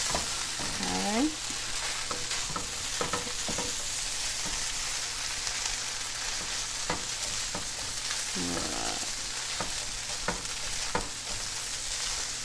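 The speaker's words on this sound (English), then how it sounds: "I'm gonna let this rice toast for 1 minute." Rice toasts in a hot pan for pineapple fried rice, with a steady close sizzle and frying hiss throughout and occasional scraping stirs of a utensil, no one talking.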